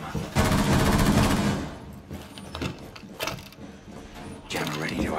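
A weapon magazine swap and reload in Rainbow Six Siege during a team deathmatch on the Hereford Base map, mechanical clacks and ratcheting clicks amid loud bursts of automatic gunfire, with voices speaking over the action.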